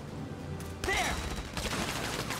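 Gunfire in Valkyria Chronicles 4 bursts in over a constant battlefield din, with a quick volley of close, loud shots in the latter half.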